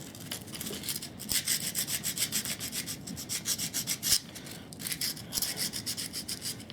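Hand sanding of a part from a salvaged Bosch corded grinder with 120 grit sandpaper in a workshop: close, steady back-and-forth rasping strokes in a continuous rhythm, with no voices.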